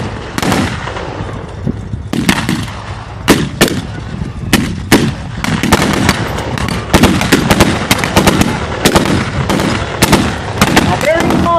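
Rapid blank gunfire bursts and sharp reports crack through a WWII combat demonstration at a museum open house, some shots close and loud, others echoing, irregular and overlapping across the scene with faint voices underneath.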